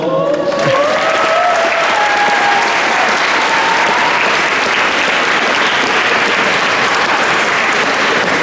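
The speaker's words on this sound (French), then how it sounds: "j'aimerais un tonnerre d'applaudissements pour mon frère, mon ami, mon poteau" A church congregation gives loud, sustained applause during an Ascension Day service, dense steady clapping that fills the room throughout, with a voice briefly audible at the start.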